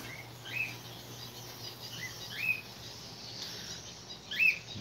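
Caged birds in a pet store give short, sharp chirps, three distinct calls spaced a couple of seconds apart over a quiet hum of store ambience.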